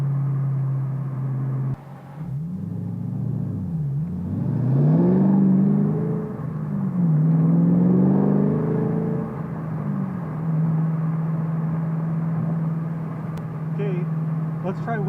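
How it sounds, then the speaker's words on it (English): A Ford GT500 drives with the windows down, heard from inside the cabin: a steady engine drone with several rising and falling revs and wind noise around it. "So normal driving with the windows down, trying to talk to the camera."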